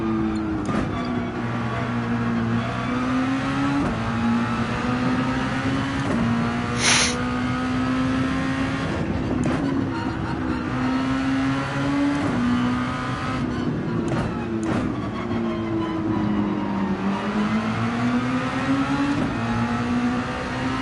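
A Super Formula race car in Gran Turismo 7 revs hard throughout, its engine note climbing and dropping through gear changes in a continuous loud drone, with occasional sharp transients and no talk.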